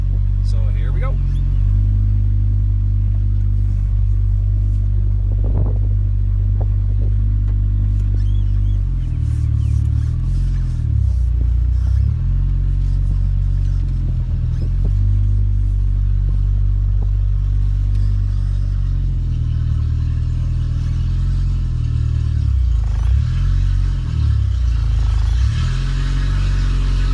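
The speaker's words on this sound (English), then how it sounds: "I'm going to back it into the garage just to give you guys an idea, to make sure that everybody knows that all the gears work." A 1982 Fiat X1/9 idles and creeps in low gears while backing into a garage, its steady mid-pitched engine drone rising and dipping with gentle throttle blips throughout, close and continuous.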